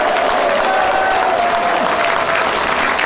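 A crowd gives loud, dense, steady applause for Pastor Jeon Kwang-hoon at the founding rally of a coalition of YouTubers, filling the whole moment without a break.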